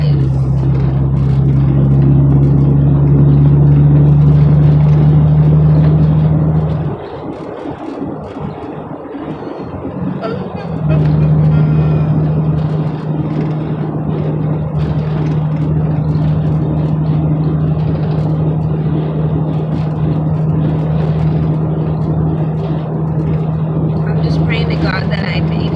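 Road traffic rumbles steadily around a car from inside the cabin, a strong low engine and tyre drone that dips briefly partway through, with a person talking over it.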